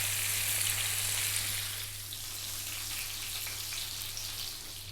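Carp pieces frying in a pan for a Bengali masala, a loud steady hiss of sizzling oil that eases slightly after a couple of seconds, close and continuous without voices.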